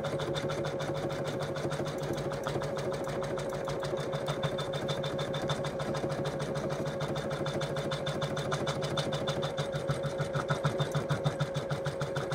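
Embroidery machine quilting the foot of an in-the-hoop Christmas stocking, a steady rapid stitching chatter running continuously and evenly close by, with no talk over it.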